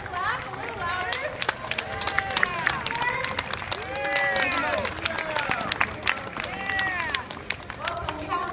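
A festival audience claps in a dense, continuous burst of applause, with scattered whoops and cheering voices rising and falling through the crowd noise.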